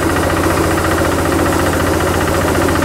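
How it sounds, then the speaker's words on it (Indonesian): A Maktani MT212 rice mill driven by a Kubota RB150 diesel engine runs with a loud, steady, dense engine rumble and clattering mechanical hum, close up and unbroken, with no speech. "Inilah sobat pengujian Mak Tani MT212 pakai penggerak diesel Kubota RB 150 DINB."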